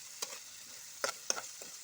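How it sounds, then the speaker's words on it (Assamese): A gentle low-flame sizzle of frying spices with a few distinct scraping stirs, quiet and close, the strokes spaced irregularly and no one speaking. "মছলাখিনি অকণ সময় ভাজিম ল' ফ্লেমত দি"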